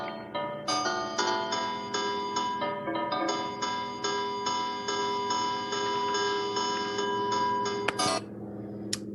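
Sonified design timeline of a novice designer, rendered as a steady run of bright, bell-like tonal ticks repeating about every half second, with a louder burst near the end, heard alone.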